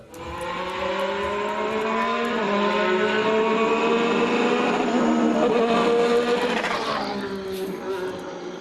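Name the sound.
Formula 1 turbocharged engine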